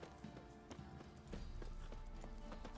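Roach the horse galloping in The Witcher 3, rapid clip-clop hoofbeats in a quick rhythm that grow louder and heavier partway through, with no talk over them.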